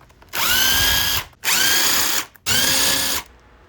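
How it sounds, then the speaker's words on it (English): A power tool backs out the front brake caliper bolts on a Honda CBR600 F4i motorcycle in three loud, sustained whirring bursts, each about a second long with short gaps between, close up and without speech. "Next, I'm going to pull these front caliper bolts."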